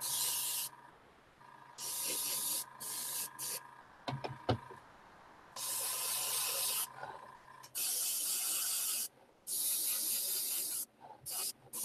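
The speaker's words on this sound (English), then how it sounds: "I keep finding spots that I want to spray" Airbrush or spray can laying yellow paint onto a Warhammer Imperial Fists miniature, a close steady hiss in several bursts of a second or two each, separated by short pauses, with a light rubbing handling sound between them.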